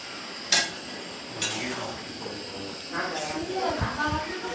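Metal pots and utensils clink and scrape during cooking of a bhog offering for Laxmi puja, with a few sharp knocks, some stirring and hissing from the pan, all fairly close.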